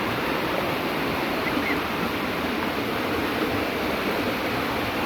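Water of a creek flows in a steady, dense rush close by, a continuous broadband wash with no pauses and no voices.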